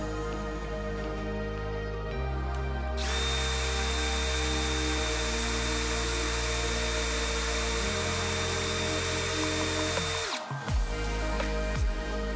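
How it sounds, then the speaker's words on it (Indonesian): A Stanley Fatmax SBD715D2K cordless impact drill spins steadily in first gear on drilling mode, a loud continuous motor whine that holds for about ten seconds before winding down, with no talking. "Untuk uji RPM kali ini saya menggunakan percepatan nomor 1 terlebih dahulu dan untuk modenya mode drilling."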